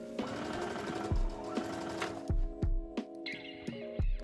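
A sewing machine runs basting stitches across tulle at regular tension, a steady close whirring motor punctuated by repeated soft thumps as it stops and restarts in short runs.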